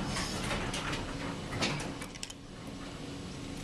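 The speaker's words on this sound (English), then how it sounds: "Door close button works." A Dover elevator door in the Marquis One Tower in Atlanta slides shut in a steady mechanical rush, with faint clicks and a soft thud near the end, heard close amid the cab's hum.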